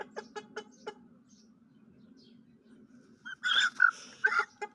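A young chick calls: a few quick, faint peeps close by, then a pause and a louder run of sharper calls near the end.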